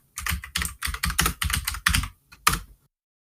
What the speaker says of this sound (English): Sorry if you don't like the sound of typing, but it's gonna have to do.